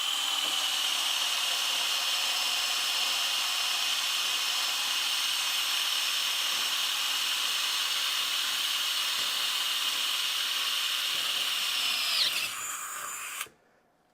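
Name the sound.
drilling steel with Diablo Metal Demon drill bit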